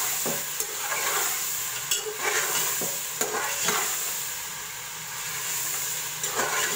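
Garlic, ginger and green chili paste sizzles and fries in a hot pan with steady hissing, punctuated by occasional scrapes and clinks of a spoon stirring.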